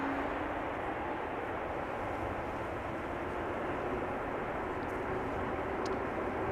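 An airliner arriving at Amsterdam Schiphol Airport produces a steady, even engine roar that holds at a constant moderate level throughout, with no talking.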